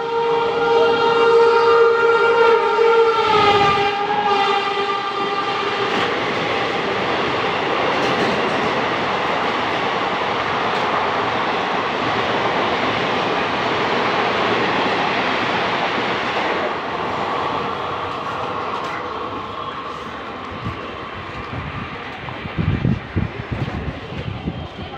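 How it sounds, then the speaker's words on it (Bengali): An express train bound for Bangladesh speeds through Chakdah station, opening with a loud horn blast, then a sustained roar and rattle of wagons rushing past close by, ending in clattering wheel knocks. "দেখুন এক্সপ্রেস ট্রেন ছুটছে"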